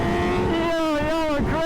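A group of superbikes sweeping past on a Dallas street, engines roaring loud and close in one dense burst with a falling pitch as they go by.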